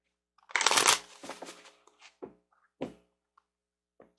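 Tarot cards shuffled by hand, a loud burst of riffling papery flutter at the start followed by several shorter, quieter shuffles and taps with gaps between, close and clear with no talking.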